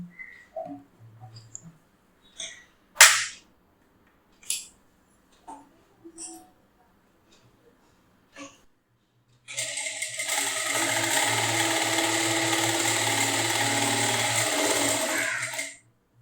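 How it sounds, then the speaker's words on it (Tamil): A power sewing machine threaded with red top thread and black bobbin thread runs in one steady whirring burst of stitching, following a series of scattered clicks and small handling taps. "இப்போ நம்ம வந்து ஸ்டிச் பண்ணி பார்க்கலாம்"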